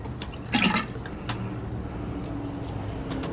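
Water rushes and gurgles steadily down an RV drain, a continuous close wash of liquid with a few splashy surges near the start.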